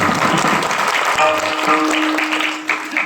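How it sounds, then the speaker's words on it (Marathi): Audience at a devotional kirtan event clapping for the sound system crew, dense sustained applause from a large crowd, loud and close, with a brief murmur of voices underneath. "साऊंड सिस्टम नंबर 1 आहे, त्यांच्यासाठी टाळी वाजवा सगळे"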